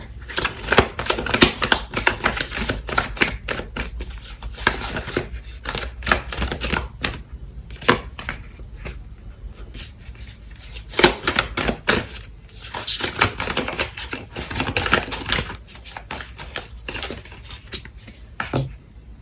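Tarot cards shuffled and drawn at a table: dense rapid flutters and riffles in repeated bursts, with soft slaps and slides of cards, close and fairly loud, no talking.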